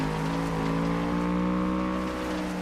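A steady, droning car engine in the racing game FlatOut, held at an even pitch on throttle throughout, loud and close with no talk over it.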